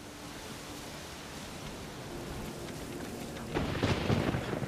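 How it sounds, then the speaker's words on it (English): A night thunderstorm in The Witcher 3 game: steady rain hiss builds to a loud rumbling thunderclap near the end. "It's a dark and stormy night."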